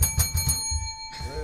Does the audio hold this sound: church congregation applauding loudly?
no